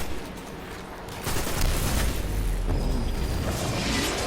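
Burst of rapid video game gunfire erupting after a quiet moment, dense crackling shots layered over a steady loud game soundscape, close and with no talk.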